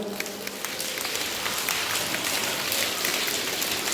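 A classroom of students patter their fingers together to imitate rain, a dense, steady crackling wash of many small claps with no pauses.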